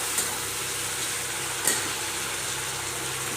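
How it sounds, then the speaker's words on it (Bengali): Chilli paneer with tomato sauce is stirred in a hot pan, giving a steady close sizzle broken by two sharp clicks of the spoon against the pan. "এখন এটাকে একটু নাড়াচাড়া দেব।"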